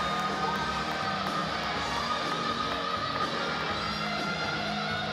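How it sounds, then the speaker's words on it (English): Crowd applause and cheering with whoops ring out steadily for a man at a swimming victory ceremony during the ASEAN Para Games women's 100m breaststroke evening session, a dense, continuous wash of noise throughout. "Round of applause for this man"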